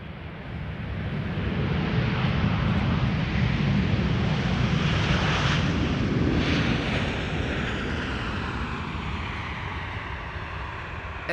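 An Airbus Beluga cargo jet passes high overhead near Amsterdam Schiphol Airport, a broad, steady rumbling roar that swells in the first seconds, holds, then slowly fades, with no voices.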